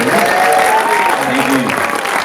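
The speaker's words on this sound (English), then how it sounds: "Give them a round of applause." An audience at an opening-night film screening applauds, producing a loud, continuous wash of clapping with a few voices calling out above it.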